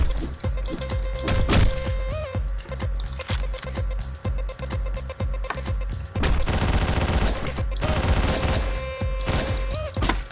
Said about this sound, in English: I ran out of ammo from shooting it